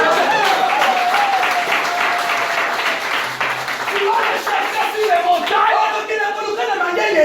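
A church congregation claps and applauds steadily, a dense rhythmic wash of hand claps with voices mixed in throughout.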